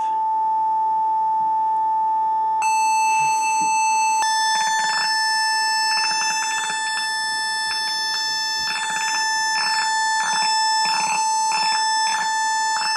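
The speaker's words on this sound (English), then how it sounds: "Try changing the duty cycle of the square wave." A piercing square-wave tone through a DIY 7W audio amplifier sounds continuously and loudly, its buzzy harmonics pulsing and shifting in a stuttering pattern partway through as the duty cycle changes.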